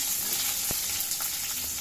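A constant hiss of ginger and garlic frying in hot oil, with one brief clink of a utensil partway through.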